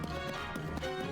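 Galloping horse hooves from Legend of Zelda: Tears of the Kingdom, a steady clip-clop rhythm over music and ambient game sound for about a second.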